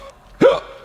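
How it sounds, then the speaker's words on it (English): A single sharp hiccup from a man, loud and close, standing alone against near silence. "Now you've got cave hiccups, which are some of the worst form of hiccups"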